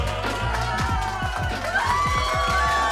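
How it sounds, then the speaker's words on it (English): Audience at a live stand-up comedy show in a lounge applauding and cheering, a dense, steady wash of crowd noise that holds at full level throughout, with music-like tones running underneath. "Y'all clap it up, clap it up."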